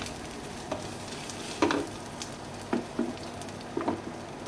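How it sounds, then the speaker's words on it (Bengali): Spices, cumin and coriander powder, stirred into a pan over a soft background sizzle, with a few separate scraping strokes spaced a second or so apart. "জিরার গুঁড়ো, ধনের গুঁড়ো দিয়ে ভালো করে আমি নেড়ে চেড়ে নেবো।"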